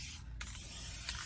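Lacquer paint sprays onto foam flowers from a can or small sprayer, a steady close hiss filling the short moment with a brief dip, no voices.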